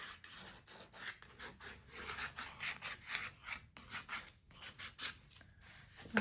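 Dry scraping and rubbing strokes, close and fairly quiet, repeating in an uneven rhythm of short rasping passes with brief pauses between.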